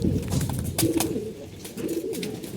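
Pigeons, including a brown-necked pigeon, coo in low, throaty rolls over a busy background of rustling and shuffling, several calls overlapping close by.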